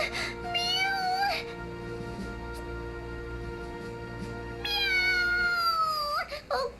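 A cat character meows in the video game Bravely Second: two drawn-out, rising-and-falling meows spaced a few seconds apart over quiet background music, the second longer and louder.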